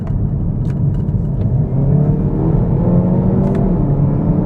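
Hyundai i30N with a dual-clutch transmission accelerating, a close engine rumble whose rising tone drops as it shifts, with sharp pops and crackles through the exhaust.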